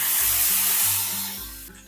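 Grated tomato hits hot mustard oil seasoned with black mustard seeds, bursting into a loud, bright sizzling hiss right up close that gradually eases over two seconds, with no talking.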